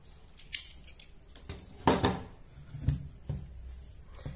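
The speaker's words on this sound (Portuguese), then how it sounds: "Vou cortar o fio." Scissors snip crochet yarn in a quiet room, a few sharp separate clicks and cuts spaced out over a few seconds.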